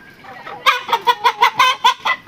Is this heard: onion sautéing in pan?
no